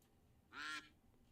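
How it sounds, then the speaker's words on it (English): A single quacking duck call, faint and brief, in the middle of a livestream, standing alone over a low background hum without talk. "All right, we got the duck noises."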